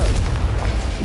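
A Confringo fire spell explodes in the game Hogwarts Legacy, a single loud booming blast with a rumbling low tail lasting about a second.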